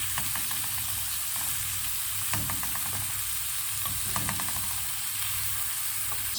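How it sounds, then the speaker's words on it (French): Onions and mixed vegetables sautéing in a pan, a constant dense sizzle with intermittent spatula scrapes and stirring clinks, close and even in level, no talking. "Je vais faire revenir les oignons et les légumes."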